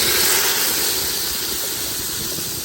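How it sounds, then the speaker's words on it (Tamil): Ginger garlic paste sizzling in hot oil in a pan for prawn biryani, a loud, steady, close hiss that fades very slightly and has no talking over it. "எண்ணெயிலே நல்லா இஞ்சி பூண்டு பேஸ்ட் வந்து அப்படியே வதங்கணும்"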